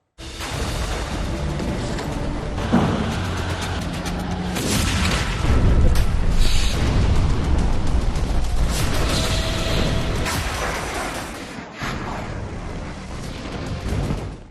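Bombing explosions in Gaza: a dense, continuous barrage of deep, heavy booms and rumbling blasts, loud and sustained throughout with repeated surges and no pause.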